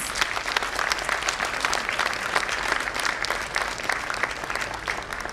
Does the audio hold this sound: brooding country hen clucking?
no